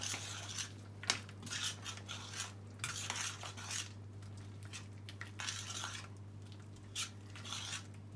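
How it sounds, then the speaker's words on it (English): Beef goulash sauce gets stirred in a pot with a spoon, producing soft continuous scraping and clinking strokes against the metal, fairly quiet over a steady low hum, with no speech. "Give it a wee stir around just to thicken the sauce a little."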